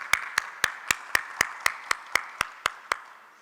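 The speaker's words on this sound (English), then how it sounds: "So a very big clap and thank you" Spaced, evenly timed single claps ring out about four per second in a quiet conference hall, crisp and distinct with a faint tone lingering under them, fading slightly toward the end.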